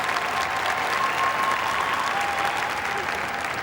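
Crowd applause at a gun dog day dog show, a sustained even clapping from many spectators at moderate distance, steady throughout.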